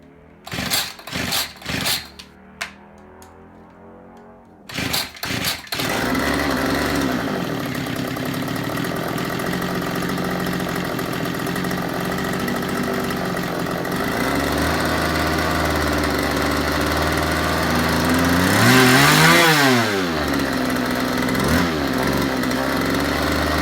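A weed eater engine being repaired after carburetor adjustments takes several sharp pull-starts before catching and then runs loud and close at a steady buzzing idle, with one brief rev partway through.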